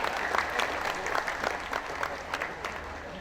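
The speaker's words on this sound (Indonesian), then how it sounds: "Tepuk tangan ya." A speech audience claps in a short burst of dense applause, moderately quiet and somewhat distant, lasting a few seconds.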